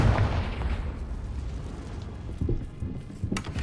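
Confringo blasting spell in Hogwarts Legacy, rumbling explosive booms with a sharp burst at the start and further pops and thuds toward the end, spread over several seconds without speech.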